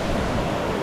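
Water rushing at the Cascada del Indio waterfall in the Valle del Lunarejo: a steady, broad roaring wash, loud and unbroken for under a second.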